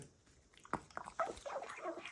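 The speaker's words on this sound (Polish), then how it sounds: "pies je kebaba" A dog eating kebab, with a few short, close bursts of chewing and biting that cluster toward the end of the moment, mostly soft, with no voices.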